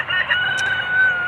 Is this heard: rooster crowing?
yes